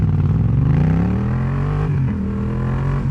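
A 2019 Yamaha MT-07 motorcycle with an aftermarket Arrow exhaust rumbles close up, its engine note rising and falling steadily as it rides, with a deep, continuous drone and no talk.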